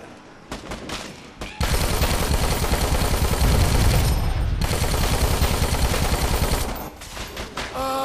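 Rapid automatic gunfire from the video game Dead Rising 4 comes in dense, loud bursts, with a sustained volley of several seconds between shorter shots.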